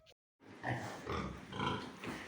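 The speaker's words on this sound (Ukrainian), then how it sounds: "Зараз вам покажу своїх е, поросяток, а саме французьких підренчиків" Young piglets of a French breed grunt in a barn, a continuous chorus of close, overlapping grunts and squeals after a brief silent gap.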